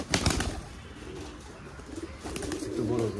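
Pigeons on a pigeon farm coo softly and close by, with some wing flutters and shuffling, and a low murmur of background noise throughout.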